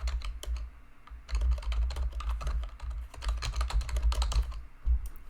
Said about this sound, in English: I'm going to type what my chart does.